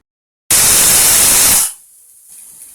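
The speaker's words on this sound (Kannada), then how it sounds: "ಈಗ 1 ವಿಷಲ್ ಬಂದಿದೆ" A pressure cooker cooking palak sambar releases a sudden loud burst of steam through its whistle for about a second, then drops to a faint lingering hiss.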